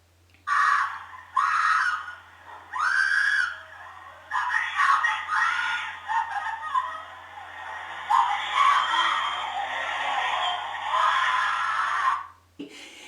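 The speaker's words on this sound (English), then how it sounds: "And the screaming, it just goes on and on." A voice screams and cries out for help in long, strained bursts, repeated again and again for several seconds, fairly loud and close, captured by a door camera.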